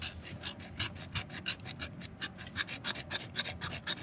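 A blade scrapes flint into tiny shavings in quick, regular rasping strokes, close and fairly quiet, with no talk.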